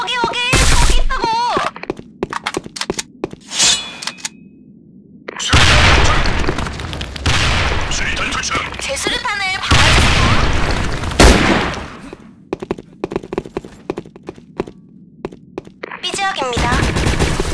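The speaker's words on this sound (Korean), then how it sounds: "수류탄 갑니다!" Grenade explosions and rapid gunfire in the online shooter Sudden Attack: several heavy booms and dense bursts of shots, with excited players' voices before and between them.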